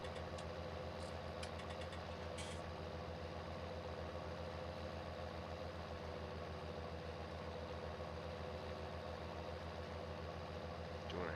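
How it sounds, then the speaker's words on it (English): A Farming Simulator 19 tractor pulling a baler through Fenton Forest drones with a steady, even engine hum that runs unbroken from start to finish, with faint light clicks early on. "This tractor does turn pretty nice, and it's pulling this baler"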